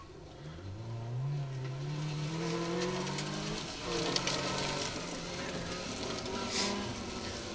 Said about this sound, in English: MGZR, car 180, Luke Watts, Matt Rogers.